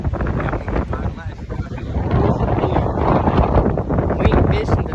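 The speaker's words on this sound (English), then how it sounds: "It is so windy." A strong wind blows across a beach at Myrtle Beach, roaring and buffeting the microphone continuously and loudly, with a faint voice half-buried under the gusts.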